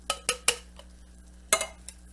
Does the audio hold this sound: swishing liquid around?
yes